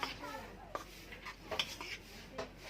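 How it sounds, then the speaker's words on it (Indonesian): Tapioca starch and wheat flour mixed in a bowl for cireng, with a few light clinks and scrapes of a spoon against the container, quiet and close, and faint voices in the background. "acinya dan tepung terigu ke dalam satu wadah. Saya aduk rata."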